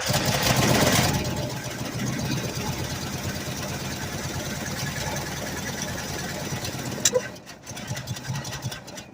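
Old Lincoln car engine cranking, catching and then idling with a rapid rough chugging rhythm at moderate volume, cutting out with a clunk near the end.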